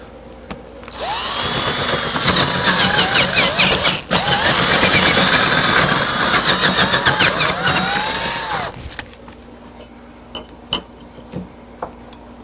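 A power drill bores into a cabinet during repair work, the bit twisted at an angle. The close, loud whine holds steady for about eight seconds and rises and dips with the load, then cuts off, leaving quiet handling noises.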